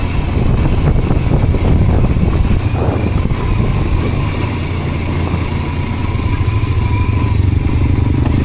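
Motorcycle engine running steadily on a rural road in Flores, a continuous mid-pitched drone with wind noise, loud and close throughout without speech.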